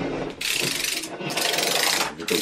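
Plastic vacuum cleaner parts snap and ratchet together for storage, giving a few quick close clicks and rubbing scrapes in short bursts.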